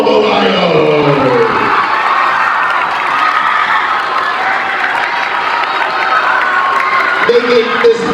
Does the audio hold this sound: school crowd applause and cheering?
yes